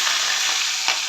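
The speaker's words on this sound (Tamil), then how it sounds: "அடுத்தது வந்து கறிமிளகாய் பொரிக்க போகிறோம்." Green curry chilies fry in hot oil in a Jaffna home kitchen, giving a steady, close broadband sizzle with brief stirring clatters, no voices.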